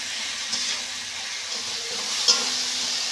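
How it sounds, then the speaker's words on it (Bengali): Onion and tomato with salt frying in a pan, a soft low sizzle with occasional quiet stirring scrapes and small clinks. "পেঁয়াজ টমেটো ভাজা হয়ে গেছে।"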